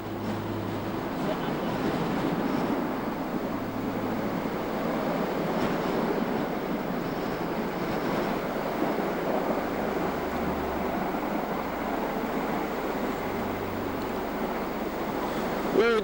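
Steady, strong winter wind roars and buffets the microphone throughout on a wet riverbank, with a surf-like rushing wash and no pauses.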